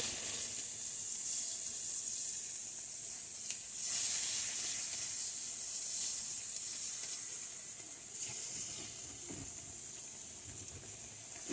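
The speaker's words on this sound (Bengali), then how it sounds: "ভালো করে এপিট উপিট করে মশলাগুলো আমি কষিয়ে নেব" Spices and masala for a rui fish curry with beans and potatoes sizzle and hiss steadily in a pan, a continuous close frying sound with slight swells as they are stirred.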